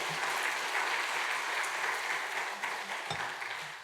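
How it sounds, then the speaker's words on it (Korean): A church congregation applauds together during a Sunday service, a dense, even wash of clapping held steady for a few seconds before tapering slightly. "오늘 오신 분들을 위해서 한번 격려 박수 한번 했으면 좋겠습니다"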